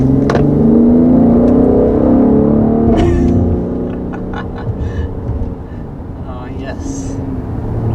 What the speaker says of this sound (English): We have the AMG Performance exhaust, so this is the most aggressive exhaust setup you can get on this.